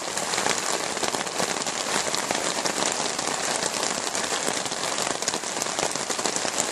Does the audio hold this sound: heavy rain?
yes